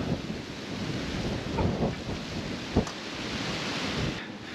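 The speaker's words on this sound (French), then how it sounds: "Il y a du vent, je suis désolé." Wind blows hard high up in a tree during amateur pruning, a dense, steady roar buffeting the microphone, with a few brief knocks breaking through.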